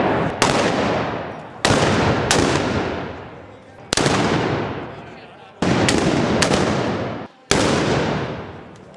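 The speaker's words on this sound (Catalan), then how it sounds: "Aquells qui tiren trets en honor a Santa Coloma són galejadors" Galejadors fire blunderbuss shots at the Santa Coloma festival. About seven loud, sharp blasts come in quick succession, some nearly doubled, and each leaves a long rolling echo that decays before the next shot.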